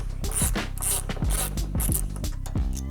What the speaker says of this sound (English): I'm going to take my 10mm socket with the 3-inch extension, and I'm going to remove the 10mm bolt